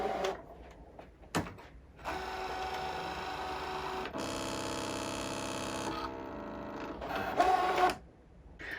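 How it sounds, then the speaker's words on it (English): Electronic craft cutting machine with a cutting mat loaded for a plush felt project: a steady mechanical whir and motor hum with shifting tones and brief pauses, close and fairly quiet, with no talking. "hit that load mat button, and it will slide it into the machine"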